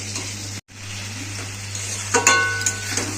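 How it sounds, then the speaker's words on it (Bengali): Potatoes fry in oil with spices as they are stirred, a constant close sizzle with scraping and clinking of a utensil against the pan toward the end. "আমি কষে নিচ্ছি আলুটাকে মশলা দিয়ে"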